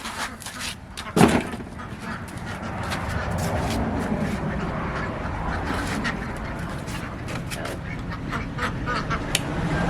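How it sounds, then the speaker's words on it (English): Ducks waiting to be fed quack repeatedly nearby while a poultry crate is put together, with a loud close squawk early and a busy chorus of calls and rustling throughout. "Ducks, you're not getting fed right now."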